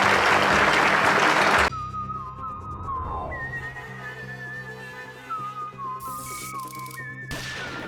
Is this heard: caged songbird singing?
no